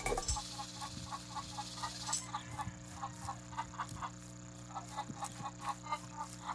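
Repeated soft clucking of a chicken in the Roblox horror game The Butchery, in a steady rhythm, fairly quiet, over a low electronic hum.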